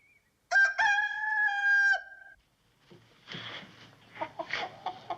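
A rooster crows loudly in a long, tonal call, then after a short pause a chicken gives a burst of rough, fluttering clucks and squawks, close by with no talking.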